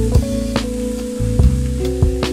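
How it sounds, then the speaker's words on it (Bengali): Snake gourd (chichinga) tips into hot oil for a Bengali sesame dish, raising a steady crackling sizzle with a few sharper bursts over a low, sustained tonal background. "এবার আমরা চিচিঙ্গে গুলো এর মধ্যে ঢেলে দেব।"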